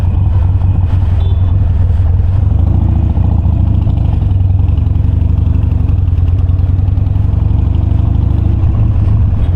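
A Harley-Davidson Roadster 1200 motorcycle's engine rumbles loudly and close, a thick, steady low throb like an idle with slight surges in the middle and no voices.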